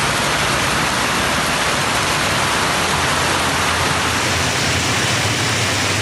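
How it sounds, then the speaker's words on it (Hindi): Heavy rain pours steadily across Punjab, a dense, even hiss of falling water that stays loud and unbroken throughout, with no voices. "सुबह से पंजाब के ज्यादातर शहरों में चौथे रोज भी खुलकर बरसात हुई।"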